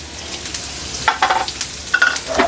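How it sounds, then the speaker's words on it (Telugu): Urad dal, coriander seeds and cumin roast in a pan with a spoonful of oil, giving a soft sizzle under a few quick scraping stirs of a spoon, close and brief with no voices. "ఈ మూడు వేపుకోవాలి మంచిగా"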